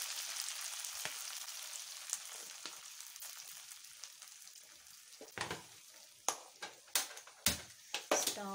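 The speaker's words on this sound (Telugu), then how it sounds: "స్టవ్ను సిమ్లో పెట్టి ఈ ఆకును ఫ్రై చేయాలి." Chennangi (kasivinda) leaves sizzle in a pan over a low flame, with dried red chillies and mint, a steady crackling hiss building into sharper spitting bursts toward the end.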